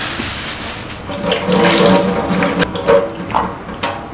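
Tap water runs steadily into a bowl being filled for bitter gourd, a continuous splashing flow for about four seconds, growing fuller after the first second with a few brief clinks in a kitchen.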